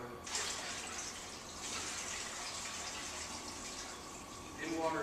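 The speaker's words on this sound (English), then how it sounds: "I'm going to pour the thin water into the sink" Thin, clay-laden water from cleaning a pottery wheel pours steadily into a sink with a continuous splashing hiss, briefly changing in tone near the end.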